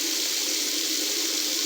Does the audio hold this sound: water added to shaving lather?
yes